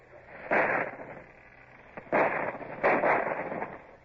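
Ship's cannons firing at a shore battery in a radio drama: three heavy booming blasts with gaps between them, the later two coming close together, loud and near, with no voices over them.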